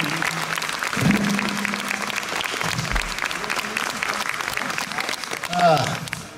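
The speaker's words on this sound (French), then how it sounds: "il faut l'applaudir très fort" Audience applause at a Fête de la Musique concert in Fourmies greets a guitarist, steady clapping throughout with voices and a short musical sound mixed in.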